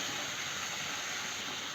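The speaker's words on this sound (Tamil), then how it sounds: "வெங்காயத்தை நல்லா வதக்கிக்கலாம்." Small onions sauté in a hot pan, giving a steady, even sizzle with no pauses or voices.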